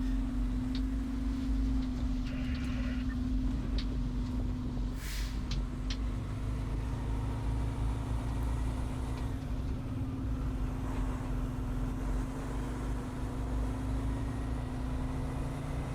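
Heard from inside the cab, a fire truck rolls into the fire station, its engine a steady low drone with a constant hum, a brief hiss partway through and no talk.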